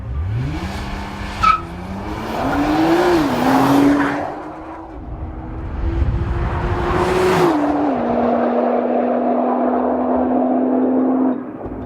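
A 2014 Nissan GT-R Track Pack launches hard from a standstill, its engine howling up through rising revs with distinct shifts and tire squeal, then holding a loud steady drone for several seconds with no talk.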